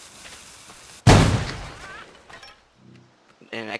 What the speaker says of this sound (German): Eine Explosion im Abgang.